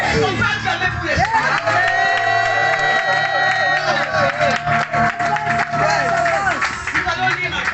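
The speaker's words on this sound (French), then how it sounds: "On va acclamer" Church congregation cheering and applauding at a worship service, a loud sustained mix of clapping, whoops and shouting voices, with a voice calling out over the crowd throughout.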